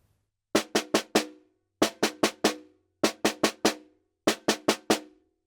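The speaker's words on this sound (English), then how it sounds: "This rudiment is called the single stroke four," Snare drum single stroke four rudiment: four quick groups of four crisp alternating hits, each group separated by a short pause, played alone and clear.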